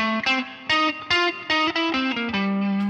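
An electric guitar lick with distortion and chorus, a quick run of separate picked notes at a steady pace that settles onto a held final note, loud and close with no talk.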